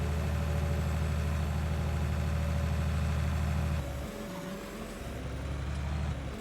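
Idling John Deere tractor in Farming Simulator 19 holds a deep, steady diesel rumble up close, then the tone shifts and lightens partway through before settling again, with no voices.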